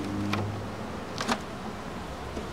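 Agitated honeybees at an open hive during an inspection in Gainesville, Florida, hum in a steady low drone, with a couple of brief louder buzzes from bees passing close.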